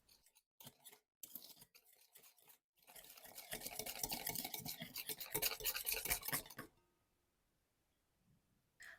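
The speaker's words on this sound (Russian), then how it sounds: "Все хорошо перемешиваем до растворения сахара и соли." A utensil scrapes and whisks steadily through thick cake batter in a bowl, dissolving sugar and salt, with a few brief taps before and a quiet pause after.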